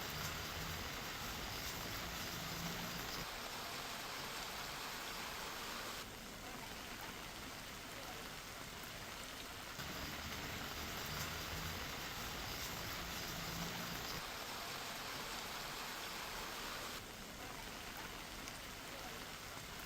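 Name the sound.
heavy rain in Vasai Virar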